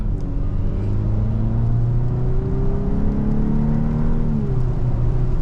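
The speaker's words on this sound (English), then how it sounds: "I'm not applying much throttle, just a little bit." A 2024 VW Atlas Cross Sport SEL Premium R-Line engine under light throttle on a drive, a steady low cabin hum and whir with a slowly rising tone, continuous and fairly loud.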